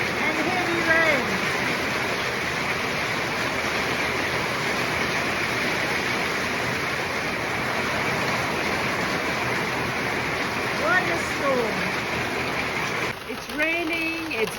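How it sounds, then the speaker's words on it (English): Dense, steady roar of heavy rain and hail pouring down, broadband and continuous, with faint voices or sounds breaking through occasionally. "Just listen to the rain. It's the hail and heavy rain."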